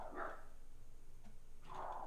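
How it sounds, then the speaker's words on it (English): Two short bursts of dog barking a little way off, separated by a quiet pause, over a low background hum. "I wonder what they're barking at."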